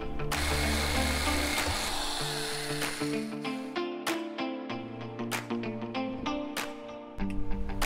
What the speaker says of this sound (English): Now, I'll drill a few holes and add some rivet nuts.